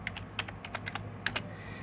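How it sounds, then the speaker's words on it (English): Keyboard keys tapped one-handed at a computer, a sparse, irregular run of about a dozen light clicks, close and quiet with no voices. "I'm only typing with one hand"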